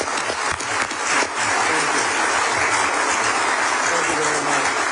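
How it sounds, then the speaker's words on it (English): Steady, dense applause from a large audience at a fireside chat fills the clip, loud and continuous with a low murmur of voices underneath. "Would you all say thank you with your applause?"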